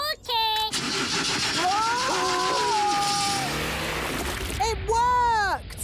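A cartoon car engine sputters and tries to start with revving, whiny tonal sounds and bursts, while animated characters speak and exclaim over it, close and fairly loud.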